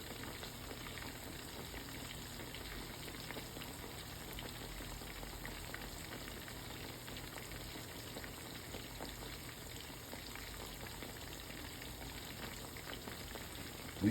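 Farm-raised catfish fillets frying in hot oil, a steady, dense sizzle and crackle that holds evenly throughout with no voices over it.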